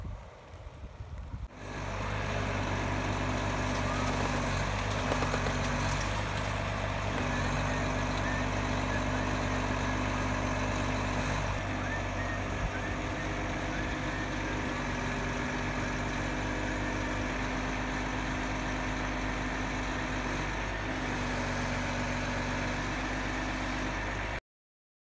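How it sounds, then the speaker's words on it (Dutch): A truck's engine idles steadily and close by at a construction site on a freezing cold day, a continuous low rumble with a faint rise at the start, no talking over it. "Volgens mij hoor ik een vrachtwagen."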